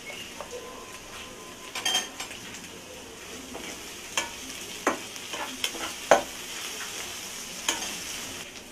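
Prawns fry in a pan with a steady soft sizzle while a utensil stirs and scrapes now and then, making sharp metallic clinks.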